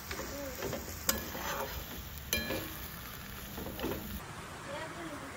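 Taro greens cooking with fish bones are stirred in a pan: soft scraping strokes over a low sizzle, close by, while people chat quietly nearby.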